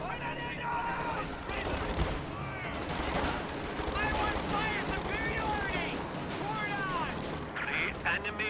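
Gunfire and bazooka hits in a World War II strategy video game, a dense, continuous battle din of rapid shots and blasts under a commentator's voice talking throughout.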